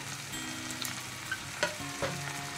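Potatoes and green chillies fry with prawns in a pan for a cucumber-prawn dish, a steady close sizzle broken by a few soft stirring scrapes and taps, with no voices.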